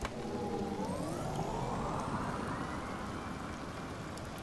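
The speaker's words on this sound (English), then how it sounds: "It's still fucking raining." Steady rain hiss in the video game Detroit: Become Human, with a low rumble and a faint rising siren-like tone in the background, no voices.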